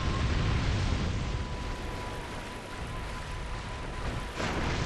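Fire in the Dark Souls 2 video game roars as a loud, broadband rushing blaze, steady and close, with a faint tone underneath and a sudden burst near the end.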